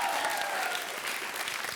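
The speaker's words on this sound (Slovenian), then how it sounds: "Še malo večji aplavz za dekleta." An audience at a school cup-stacking competition applauds loudly, dense clapping sustained without pause for the whole short stretch.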